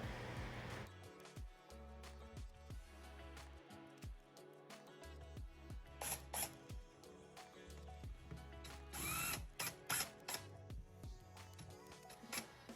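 A power tool backs the screws out of a Dodge Challenger steering wheel, giving rapid ratcheting clicks and short whirring bursts that stop and start, close up with no voices.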